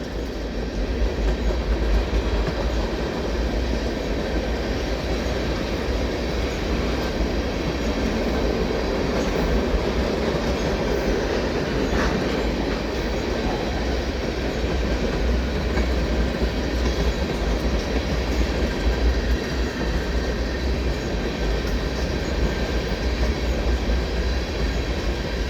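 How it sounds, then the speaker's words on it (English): Two back-to-back SD70M-2 locomotives haul a mixed freight train under the Dorval ramp bridge, producing a long, steady rumble of rolling cars with faint clicking wheels, continuous and fairly loud with no voices. "Here you can see the train headed under the bridge"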